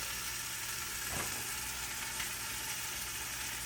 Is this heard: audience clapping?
no